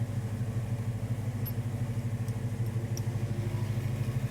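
A car engine freshly repaired with a new throttle body idles close by with a steady, rhythmic low-pitched chug and a slight clattering pulse.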